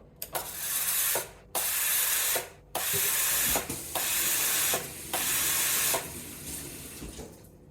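Steam wand on a Sage Oracle BES980 espresso machine purging itself: loud broadband hissing bursts of steam, several in a row, separated by brief gaps and clicks, ending with a fading hiss.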